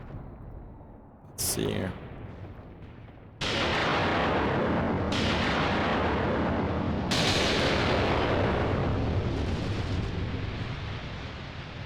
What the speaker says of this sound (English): that should be our artillery striking